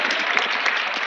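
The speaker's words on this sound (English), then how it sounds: "When you spoke in favor of the students, then they applauded" Students applauding a speaker at a youth launch event in Ghana, a dense, steady wash of clapping hands filling the room at even loudness for the whole short stretch.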